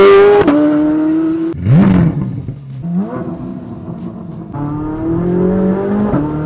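A Chevrolet C8 Corvette Z06 sports car engine revs hard several times, its pitch climbing and dropping between bursts, loud and close.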